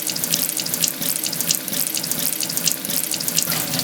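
Tap water runs steadily into a container being rinsed out at a kitchen sink, a continuous close hiss and splash with no voices.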